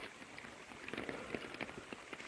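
Steady patter of rain on a taut camping tarp, with scattered sharper drops standing out against a soft, continuous hiss.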